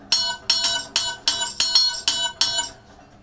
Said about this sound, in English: I have a Wuhan bell.